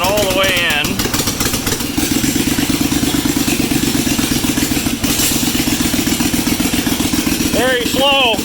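A Bolens QT16 garden tractor engine chugs with a steady, close, clattering beat as the tractor creeps forward slowly, with a voice speaking briefly near the start and the end.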